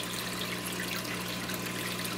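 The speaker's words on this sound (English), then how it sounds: "we're gonna dump them in here along with this dirty water" Water pours steadily into an aquarium as fish and dirty water are dumped in, a soft continuous splashing rush with a low steady hum underneath.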